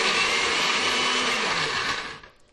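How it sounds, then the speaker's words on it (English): A blender whirs loudly and steadily as it blends a smoothie with frozen soy milk, then winds down and cuts off near the end. "Put it on the blender."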